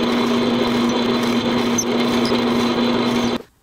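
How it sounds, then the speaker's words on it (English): A small power drill whines steadily while boring a row of holes in a wooden crayon boat, its motor holding a constant pitch until it cuts off abruptly at the end. "we can just go across and drill the next 8 holes"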